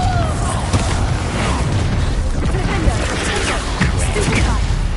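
Confringo blasting spell in Hogwarts Legacy, fiery explosive bursts and crackling booms layered over a dense, continuous rumble of combat effects, loud and close throughout.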